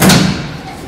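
A metal apartment front door lets out a single heavy thud, loud and close, its low boom fading quickly with no one speaking.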